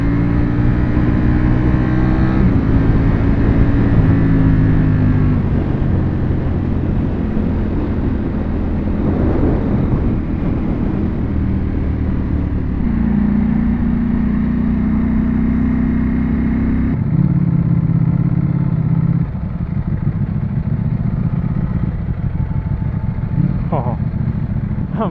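A Ducati V4 motorcycle rides through traffic, its engine droning and shifting pitch as it revs and settles, with wind noise and other vehicles around, heard close from the rider's position.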